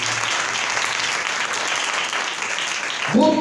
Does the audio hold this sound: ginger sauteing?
no